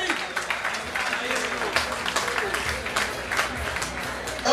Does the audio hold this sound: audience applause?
yes